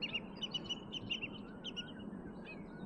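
Pied stilts squabbling, with quick, faint, scattered high chirps and yelps bursting irregularly over a low steady background rumble.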